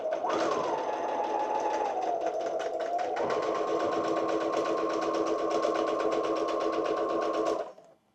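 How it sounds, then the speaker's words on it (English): A sewing machine back stitching the lining of a corset dress hums in one continuous close run, its pitch shifting slightly as it reverses, with a rapid even needle chatter before it winds down at the end. "Okay, so let's do this. Back stitching."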